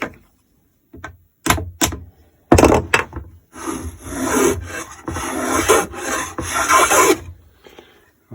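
A Festool plunge saw running on a guide rail cuts through wood stock in a few short passes, giving close, harsh rasping bursts separated by brief pauses, with no talk.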